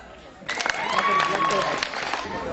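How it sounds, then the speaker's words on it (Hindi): Audience clapping at a school annual function with prize-giving for cultural and sports winners, a dense burst of applause rising at once and holding steady for about two seconds. "ताली लगवाइए।"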